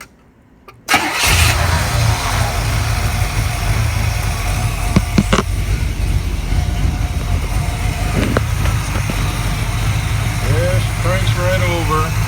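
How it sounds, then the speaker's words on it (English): A 1970 Buick Electra convertible V8 with an Edelbrock setup, refreshed after fire damage, cranks and fires, then settles into a loud, steady close-up idle with a few revs and a voice talking over it. "So, we're gonna start up. Should start right up."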